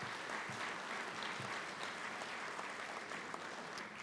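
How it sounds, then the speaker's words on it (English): Audience applause at a hall of fame event in a hall, sustained even clapping from a sizeable crowd, steady and moderately distant throughout. "So yeah, give them a round of applause."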